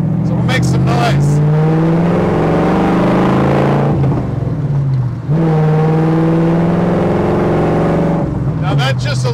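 A 1965 Shelby Daytona Factory Five Gen 3 replica race car idles with a deep, steady rumble, swelling in two light throttle blips near and loud, with a voice talking over it.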